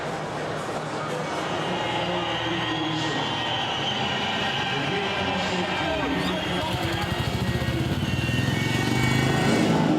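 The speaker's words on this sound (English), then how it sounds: "it is another fast start from Artem Laguta" Speedway motorcycles racing in a FIM Speedway GP Challenge heat at Togliatti make a loud, steady engine roar off a fast start. The roar builds slightly toward the end while a commentator talks over it.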